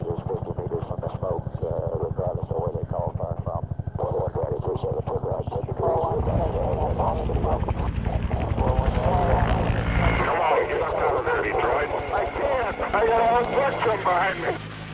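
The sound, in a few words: UH-1 Huey military helicopter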